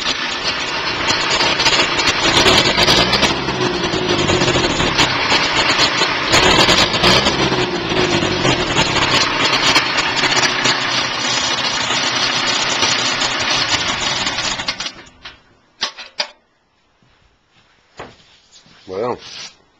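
Fire-damaged Ferguson FE 35 tractor diesel engine idling, a loud, steady close rumble with vibration for about fifteen seconds, then cutting out, followed by brief knocks and handling sounds.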